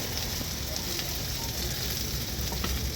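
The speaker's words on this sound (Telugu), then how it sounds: "మంచి ఫ్రై చేయాలి గోల్డెన్ కలర్ వచ్చేదాకా" Thinly sliced onions fry in about three spoons of hot oil for a chicken curry, giving a steady, close, continuous sizzle with faint stirring and no talk.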